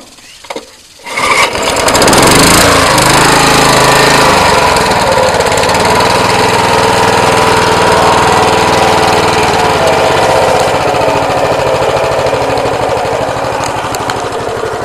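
A well-used Honda HRA214 walk-behind lawn mower, over twenty years old, sputters to life on a cold start, then runs at a loud, steady, buzzing pace close by for the rest of the stretch.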